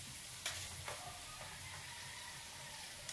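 Chicharon pork rinds fry in a pan over high heat, giving a steady, faint crackling sizzle with a few sharper pops near the start.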